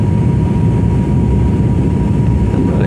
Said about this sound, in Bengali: ধীরে ধীরে নিচের দিকে নামছি ল্যান্ডিং এর জন্য। খুব দ্রুত নামছে নিচের দিকে